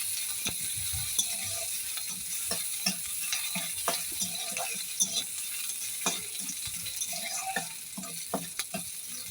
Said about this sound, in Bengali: দিয়ে দিলাম পেঁয়াজ কুচি, কালো জিরে আর পেঁয়াজ কুচি দিয়ে কিছুক্ষণ আমি নাড়াচাড়া করে নিচ্ছি।